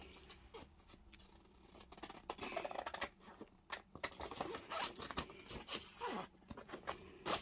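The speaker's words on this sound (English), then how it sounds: "That's got some bigger scissors out than the black ones." Large scissors snip through packaging material for junk journal ephemera, with repeated crisp cuts and rustling of card and plastic up close across the stretch, no talk.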